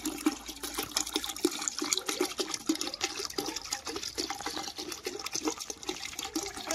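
Water, then cow urine, poured into a container while preparing jivamrut farm fertiliser, a close, continuous splashing pour with a slightly uneven gurgle throughout.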